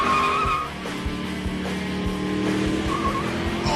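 Supercharged 500-horsepower Shelby Mustang GT revving and accelerating hard with screeching tires, a loud, sustained engine roar that stays up close for the whole stretch.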